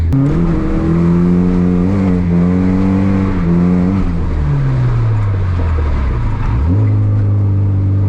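A Nissan 240SX engine revs hard and close, pitch climbing and dropping through several surges before falling to a lower idle-like drone and rising again, loud and continuous with no talk.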